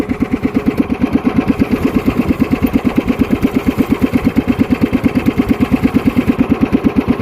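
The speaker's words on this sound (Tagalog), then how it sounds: "may nagkakarera pa dito ng bangka" A loud, steady engine putters with a fast regular chug, like a racing motorboat running close by, with no voices.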